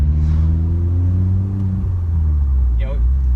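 A 1.4 Vauxhall Corsa engine running through a straight-through exhaust idles with a loud, deep, throaty drone that dips and rises as the revs shift slightly, close and alone with no talk.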